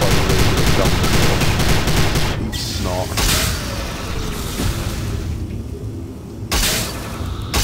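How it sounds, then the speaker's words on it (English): Rapid laser gun shots from the video game Prey crackle in dense bursts through most of the stretch, loud and up close, with a few short pauses between volleys. "I've never had a fucking laser gun before."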